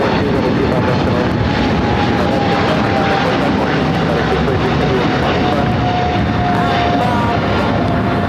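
An airliner on approach to land on runway 25 left at Los Angeles International, its steady engine roar holding loud and continuous with a faint whining tone running through it, and no pauses.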